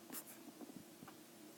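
Pen writing out a math equation, a short run of soft scratchy strokes and taps, quiet and close.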